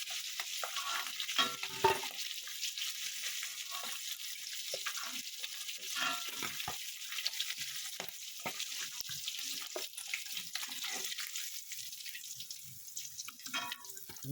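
Fish heads frying crisp in oil in a pan give a steady, soft sizzle with scattered pops and crackles and occasional stirring scrapes, alone and fairly quiet.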